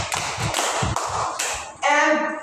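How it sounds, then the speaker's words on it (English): Classroom group clapping in unison for winners during a demo lesson, a short series of rhythmic claps, about five, followed by a brighter ringing tone. "So let's give them 5 claps."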